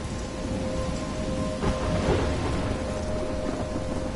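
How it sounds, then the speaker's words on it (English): Storm ambience in the video game Life is Strange, steady heavy rain hiss with a low thunder rumble swelling briefly near the middle, continuous and fairly loud with no voices. "I'm trapped in a storm?"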